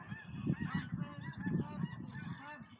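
Domestic geese on a farm honking repeatedly in a loud, close, overlapping chorus of nasal calls, alone without talk.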